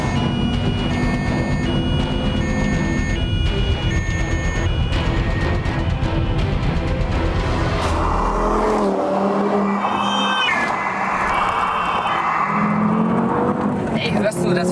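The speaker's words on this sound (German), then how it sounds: "Ey, hörst du das, wie dieser 5-Zylinder anbläst?" An Audi TT RS five-cylinder engine roars steadily and loudly while the car drives, then shifts to a higher, straining pitch with whooshing wind and road noise. A person talks briefly over it.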